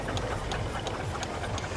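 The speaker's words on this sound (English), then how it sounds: "Holly Rose now, another regular here at Haddenham over the years, single crank compound road engine" Steam road engine, a single crank compound, running in a rally parade at Haddenham, giving a steady low chuffing with regular rhythmic exhaust beats over a dense rumble, fairly close, no talk.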